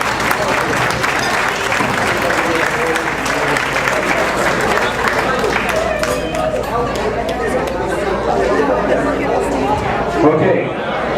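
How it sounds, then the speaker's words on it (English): Round of applause for the committee at a Morton West Class of 1963 50-year reunion, sustained clapping from a room of guests, mixed with crowd chatter and a few shouts, continuing for over ten seconds. "let's give the committee a nice round of applause"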